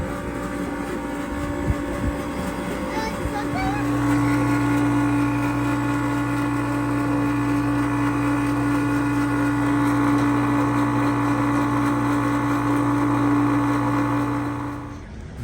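A small liquid pump hums steadily during a Volvo service, its tone settling lower and quieter after a few seconds once it stops running dry, then droning on evenly, close and alone.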